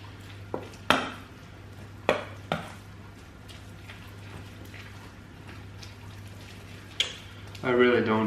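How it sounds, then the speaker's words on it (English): A spoon stirs and mixes thick beer bread batter in a bowl, giving occasional sharp clinks against the side over a steady hum, with a brief scraping burst near the end. "And now we start mixing again. It actually makes it a lot easier to stir."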